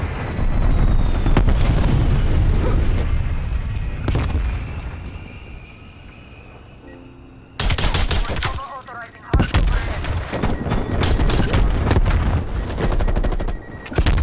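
Grenade blasts and gunfire in Call of Duty: Black Ops Cold War: dense, loud bursts of shooting with heavy booming explosions, a brief lull, then two sharp detonations followed by more sustained fire.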